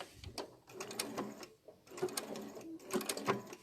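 A sewing machine stitches appliqué fabric in short bursts of rapid mechanical whirring, pausing briefly between runs as the fabric is lifted and turned at a corner, close and fairly quiet.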